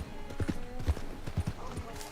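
Horse hooves clip-clopping at an easy walk in Red Dead Redemption 2, a steady run of soft close hoof thuds under faint background game sound.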